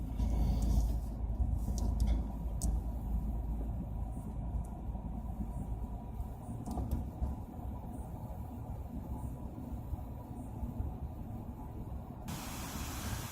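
A car rolls steadily through a quiet residential neighborhood in Deerfield, with a continuous low road rumble and tire hiss that stays even and close throughout, no voices.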